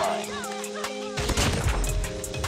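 Shotgun fire in Call of Duty Mobile erupts midway as a loud, rough burst of blasts and crashes, following a quieter stretch with game sounds and faint voice.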